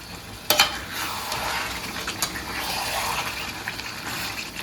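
Chicken leg pieces being stirred in hot masala gravy, sizzling and frying steadily with spoon scrapes and a couple of sharp clinks, close and continuous with no talking.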